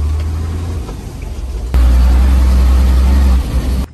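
Engine of a Beiben (North Benz) heavy truck on a rough road in Guinea-Bissau, a loud steady low rumble that surges louder partway through and holds at a strong drone.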